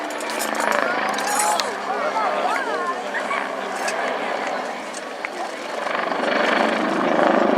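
An Italian-designed and built helicopter swings through a high turn at an RAF Cosford airshow, its steady rotor and engine roar holding strong and continuous from a distance while a commentator talks over it.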